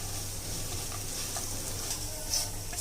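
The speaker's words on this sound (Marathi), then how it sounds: "परत सगळं हलवून घ्यायचं चांगलं।" Spiced raw mango rice mixture with coriander powder and sugar being stirred in a pan, a steady soft sizzle with faint scraping throughout, close and moderately quiet, no talking.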